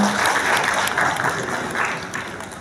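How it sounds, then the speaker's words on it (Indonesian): Audience applause for participants at a sharia banking notary certification event, a full even round of clapping from a crowd that gradually eases off. "Terima kasih tepuk tangannya."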